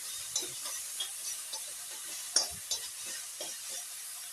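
Potato filling for fasting-style batata vada sautéing in two spoons of oil in a pan, with a soft steady sizzle under repeated stirring and scraping taps, close and fairly quiet, no talking.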